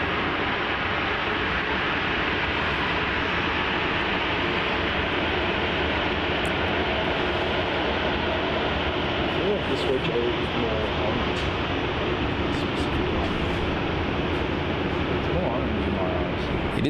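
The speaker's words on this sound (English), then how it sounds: "Coming in close here, we have that Rex 737 that landed just before from Sydney" Rex Boeing 737 just landed from Sydney at Melbourne Airport, its engines giving a steady, fairly loud broadband whine and rumble that runs continuously, with faint clicks on top.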